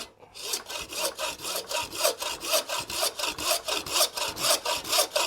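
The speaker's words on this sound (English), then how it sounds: "So now we're going to cut that. Just need a meat saw or a hacksaw." A hacksaw cuts through a beef hind shin bone in steady back-and-forth strokes, about four per second, each a close, rasping scrape with a regular rhythm.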